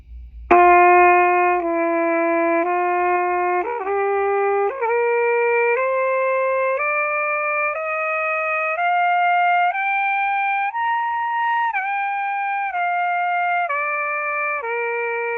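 Brass instrument playing a daily practice exercise at 90 beats per minute, a clear sustained tone stepping up and down through a sequence of smoothly connected notes, played alone and close.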